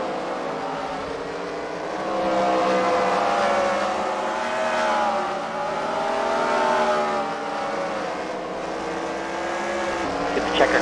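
Race cars lapping a track at a fight-night event at the Freedom Factory, engines droning and rising and falling in pitch as they pass at moderate distance, under steady background noise.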